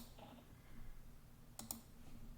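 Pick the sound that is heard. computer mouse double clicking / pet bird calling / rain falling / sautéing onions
computer mouse double clicking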